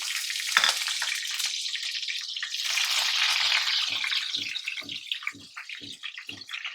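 Steady loud sizzling of tempering spices frying in hot oil, with a series of light rhythmic scraping stirs toward the end; no talking.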